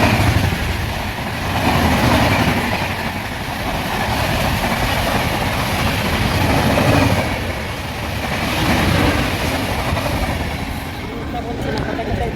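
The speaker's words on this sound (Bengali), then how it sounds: "এই লাইনে ট্রেন তো এক্সপ্রেস গেল, এখনো লোকাল ট্রেন আসেনি, ট্রেন এসে গেছে" A local train pulls into a suburban station, a loud continuous rumble with rhythmic clatter of wheels swelling and easing over several seconds, with voices faintly in the background.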